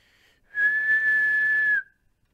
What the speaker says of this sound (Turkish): Dur ıslık çalmam gerek.